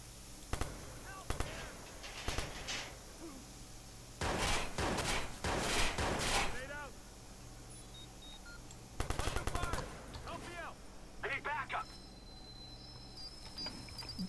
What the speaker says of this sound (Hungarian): Na hát akkor lőrözzünk.